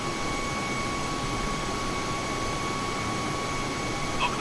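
Steady broadband roar of an Airbus A320 jet cruising at night on a Los Angeles to San Francisco flight in rain, a constant engine and airflow hiss with faint steady tones, continuous and unchanging throughout.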